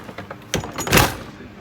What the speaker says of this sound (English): If we close the door.